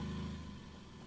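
Vehicle engine in the game RV There Yet, rolling slowly in first gear: a faint, steady low hum that drones on with no shift and a slight dip in level.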